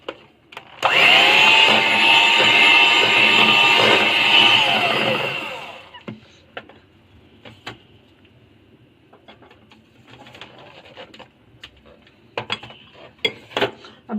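An electric hand beater whirs loudly and steadily for about five seconds while mixing naankhatai dough at home, then cuts off, followed by faint kitchen clatter and small knocks.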